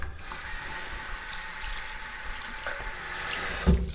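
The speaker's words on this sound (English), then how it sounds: "let's wash the face" A tap runs steadily into a basin for face washing, a continuous close hiss of flowing water with a small splash near the end.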